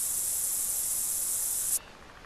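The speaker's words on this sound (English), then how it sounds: "I'm going to put some spray on." Cover scent spray applied in theHunter Call of the Wild, heard as one steady, loud airy hiss that runs for nearly two seconds and then cuts off sharply, leaving a quiet background.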